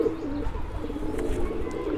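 Black Saharanpuri pigeons coo in low, throaty, overlapping murmurs, close by and continuous, with a faint chirp or two.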